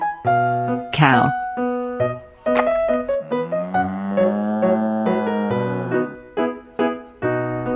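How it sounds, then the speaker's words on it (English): A cow gives a long, drawn-out moo that rises and falls over a few seconds, set against steady background music with short tonal notes before and after. "cow,"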